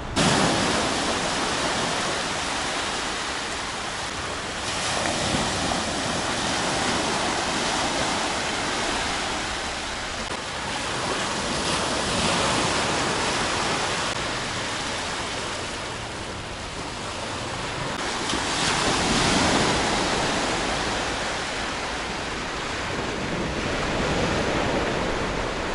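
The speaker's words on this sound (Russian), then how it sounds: "сначала давайте отправимся на пляж и посмотрим на море" Sea waves wash continuously onto a beach in Alanya, Turkey, a broad steady surf roar that swells and eases in slow cycles with no voices.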